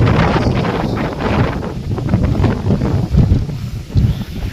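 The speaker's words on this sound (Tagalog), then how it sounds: "ang lakas ang hangin" Strong storm wind buffets the microphone in a steady, loud roar with gusting surges, heard alone outdoors with no voices.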